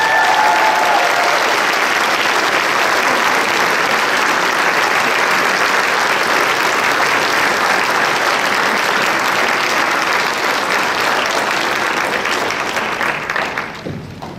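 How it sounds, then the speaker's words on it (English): Sustained applause from a concert audience greeting a guest conductor and composer, dense steady clapping filling the hall for about fourteen seconds before tapering off near the end. "would you all please give a Golden Sound welcome to our guest conductor and composer, Lisa Galvin."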